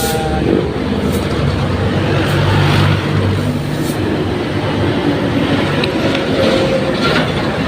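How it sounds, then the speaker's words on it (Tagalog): Dense traffic rushes along a busy highway lined with large, fast vehicles, producing a loud, continuous broadband roar with passing swells and no clear pauses. "Dito tayo sa highway ngayon mga katuda."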